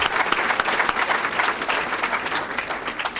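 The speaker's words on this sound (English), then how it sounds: "So we could all give him a round of applause right there" An audience at a banquet gives a steady round of dense applause, many hands clapping together at a constant level for a few seconds.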